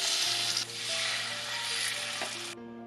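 Eggs frying in a pan with a little oil give a loud, close, steady sizzle that dips briefly and then cuts off abruptly near the end.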